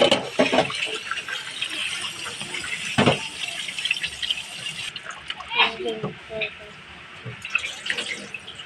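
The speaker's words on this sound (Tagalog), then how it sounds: "Ito aking hinugasan ng tubig na malinis." Running tap water splashes and trickles steadily over raw fish being rinsed clean, a continuous close wash with sporadic spatters, while a person talks over it.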